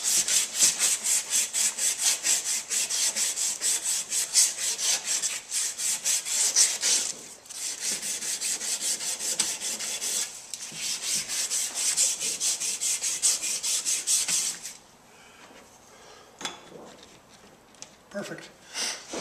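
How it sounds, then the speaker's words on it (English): Plumber's sandpaper scrubbed back and forth over copper pipe while a water heater is replaced, giving a steady rapid rasping rhythm that pauses briefly and then resumes more sparsely near the end, close and fairly loud. "this thin plumber's sandpaper, and just go like this, and it cleans up the pipe super good"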